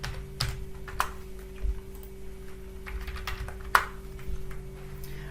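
Computer keyboard keys tapped while entering a command in AutoCAD, a few sparse, distinct clicks spaced irregularly over a steady low electrical hum, close and fairly quiet, with no one talking.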